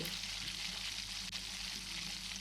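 Pav bhaji sizzles steadily in a covered pan after stirring, a close, even frying hiss with a low bubbling undertone and no break throughout.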